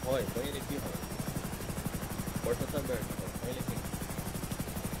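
Helicopter rotor from a GTA roleplay game, a steady pulsing chop running throughout, mixed under continuous excited talking.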